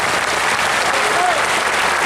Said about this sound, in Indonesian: Umar, ayo tepuk tangan dulu.